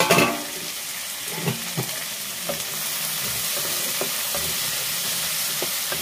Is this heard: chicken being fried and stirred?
yes